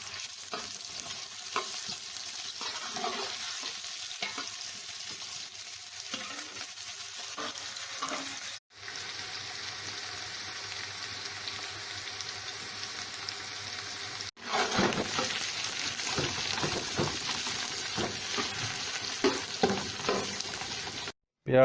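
Onions frying in two spoons of cooking oil in a pot for chicken haleem, a steady soft sizzle with occasional stirring scrapes, two brief gaps where the sizzle drops out, then a louder, brighter crackle.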